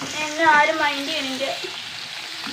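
Dried fish frying in hot oil in a pan gives a loud, close sizzle and crackle that settles into a steadier hiss toward the end.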